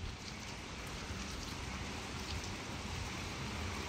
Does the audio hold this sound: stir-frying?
no